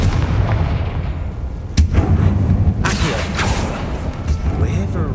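The Confringo fire-blast spell in the wizarding game Hogwarts Legacy, a sharp crack followed by a booming explosive burst, set against a steady rumbling game backdrop with a voice talking over it.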